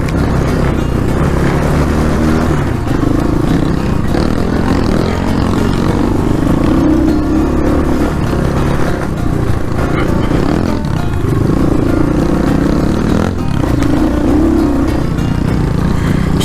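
An RBX 250L dirt bike rides a pine-needle trail, its engine rising and falling through throttle changes amid clattering and scraping from the rough ground, loud and continuous throughout with no talking.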